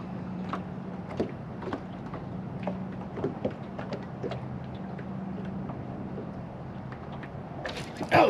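A fishing reel slowly retrieves a small Beetle Spin spinner lure from a boat on a lake, giving a steady low whirring hum broken by faint clicks and creaks, close and moderately quiet with no talking.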